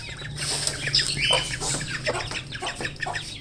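Several chickens cluck and squawk close by in a noisy, overlapping jumble, with a low background hum underneath.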